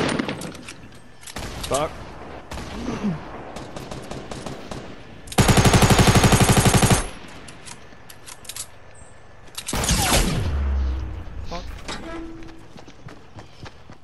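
Rapid automatic gunfire bursts and sniper shots in a Fortnite Battle Royale match, with a loud sustained volley near the middle and another burst later, amid scattered footsteps and a brief spoken curse.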